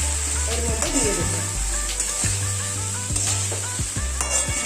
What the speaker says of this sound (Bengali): তরকারির সাথে ভালো করে মিক্স করে নেওয়া হচ্ছে।